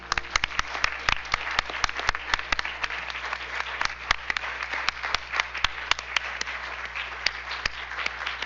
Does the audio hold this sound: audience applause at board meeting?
yes